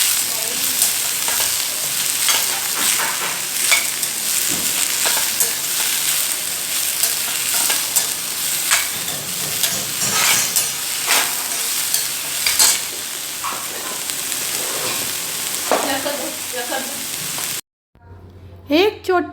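Vegetables sautéing in a pan, a loud continuous sizzle with frequent spatula scrapes and stirring taps, cutting out abruptly near the end.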